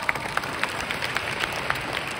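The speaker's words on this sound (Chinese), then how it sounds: "所以给我们老板一个掌声好不好？" An audience at a leadership training meeting at MITEC in Malaysia claps for the boss, with scattered, fairly faint claps spread evenly through a soft room hum.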